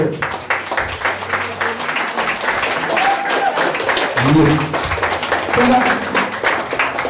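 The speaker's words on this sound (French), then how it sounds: "Je vous demande de les applaudir" Audience applause at a local election list presentation, a sustained round of clapping from a gathered crowd, with voices and murmurs mixed in throughout.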